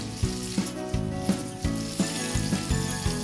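Salmon pieces browning in margarine and olive oil in a pan, a steady close sizzle with regular soft thumps and musical tones running underneath.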